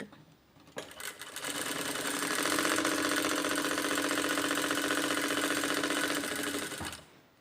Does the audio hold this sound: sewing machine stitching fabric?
yes